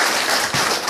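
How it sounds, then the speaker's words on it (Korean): A crowd applauding continuously at a year-end gathering in Guri, South Korea, a dense wash of many hands clapping at once, steady and fairly loud throughout. "박수 한번 부탁드립니다"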